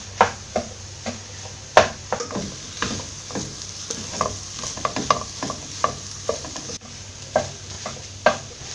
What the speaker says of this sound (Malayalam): ഇതെല്ലാം കൂടെ ഒന്നിച്ചിട്ട് ഒന്ന് ഇളക്കിയെടുക്കാം.